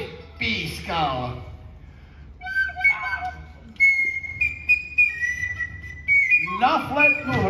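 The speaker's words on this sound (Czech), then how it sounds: "Na flétnu hraješ excelentně" A flute plays a few bright sustained notes and short phrases during an outdoor Czech theatre performance, with actors' sung and spoken voices before and after the melody.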